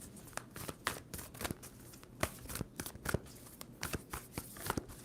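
A deck of tarot cards is shuffled in quick, crisp bursts of riffling and snapping, quiet and close, repeating irregularly without any speech.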